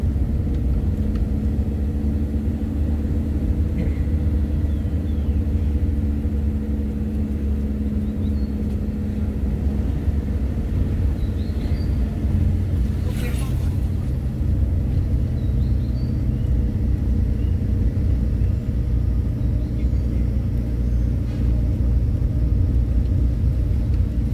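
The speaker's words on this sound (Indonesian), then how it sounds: "Pas kebetulan kita kesini pakai mobil." A car climbs the winding road up to Tangkuban Parahu, its steady engine rumble and tyre roar filling the clip continuously and close, with no talk.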